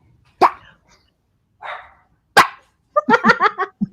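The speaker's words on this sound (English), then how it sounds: "Getting the dogs going." Dogs bark close by in short, separate outbursts: a few single sharp barks, then a quick run of rapid barking near the end.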